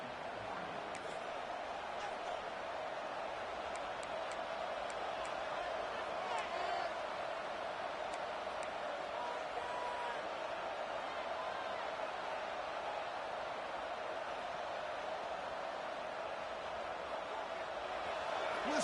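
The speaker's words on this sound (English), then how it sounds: "Listen to the crowd energy here in the early going." A stadium crowd in the college football video game NCAA 26 produces a steady, dense roar that holds at an even loudness throughout, like constant distant cheering with no clear breaks.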